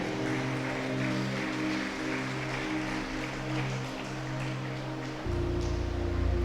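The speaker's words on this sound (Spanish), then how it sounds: "¿Cuántos dicen gloria a Dios y le dan un aplauso al Señor?" A church congregation applauds the Lord during a service, giving a steady, diffuse patter of many hands over a sustained keyboard or organ chord that shifts lower near the end.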